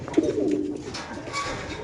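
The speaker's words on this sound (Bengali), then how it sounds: "আমরা খুবই সুন্দর একদম লাইট কালার একটা নর কবুতর" A light-coloured male racer pigeon gives a short, close, low throaty coo lasting under two seconds, with faint room noise behind it.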